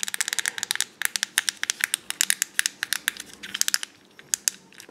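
Rapid trains of crisp plastic clicks come from pressing the buttons on a Fidget Cube, close up and steady, in fast runs broken by brief gaps, with no talk over them.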